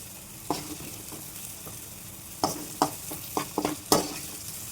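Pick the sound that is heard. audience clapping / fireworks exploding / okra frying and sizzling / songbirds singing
okra frying and sizzling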